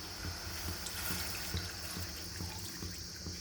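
Steady, hissing rush of water running into a vessel, close and continuous, with faint splashes throughout and no talking.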